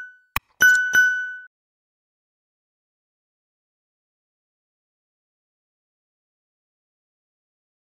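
A bright bell-style notification ding rings out alone at the start, a few clear chiming strikes within about a second, then silence for the rest.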